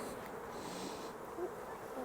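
Honey bees buzz softly around an opened hive during a spring inspection, a faint, steady drone of many insects close by with no voices.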